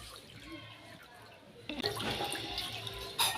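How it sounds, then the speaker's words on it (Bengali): Water pours and trickles from freshly washed pumpkin leaves lifted to drain in a kitchen, starting as a faint drip and swelling into a steady, close splashing run with a brief louder gush near the end. "পাতাগুলো তুলে জল ঝরিয়ে নেব ভালো করে।"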